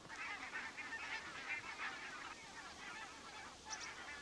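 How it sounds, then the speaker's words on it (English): A flock of geese flying overhead in open country near an old hut and a cliff, honking repeatedly in overlapping calls, fairly distant and faint against steady outdoor background noise, with no talking. "There's another pack of geese flying by."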